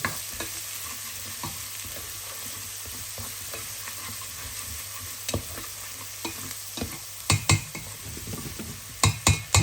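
Ingredients frying in oil for a Sylheti-style fish curry tenga sizzle steadily while being stirred, with occasional clicks and scrapes of a utensil against the pan growing sharper toward the end, no voices.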